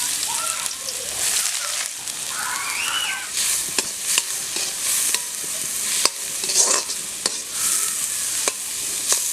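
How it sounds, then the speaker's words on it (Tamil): Chopped onions sizzle and sauté in hot oil in a pan outdoors in a garden kitchen, with steady frying crackle and periodic scraping stirs up close, a faint voice occasionally under it. "வெங்காயம் வதங்கிட்டுருக்கு"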